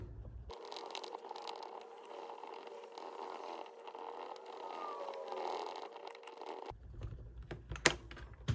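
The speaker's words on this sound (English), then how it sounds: "We'll start off with the old fiberglass pencil." A fiberglass pencil scrubs the contacts of a switcher, making a close, continuous scratchy rasp that lasts about six seconds before it stops and a few faint clicks follow.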